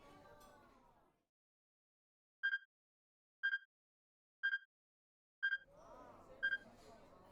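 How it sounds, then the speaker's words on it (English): Electronic beeping in 428: Shibuya Scramble, five short identical double-pulsed tones evenly spaced about a second apart, fairly clear and close, with a voice-like warble fading at the start and returning under the last beeps. "He heard a strange beeping sound again, subtly different from the first time, and this time it was closer."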